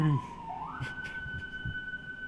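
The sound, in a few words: siren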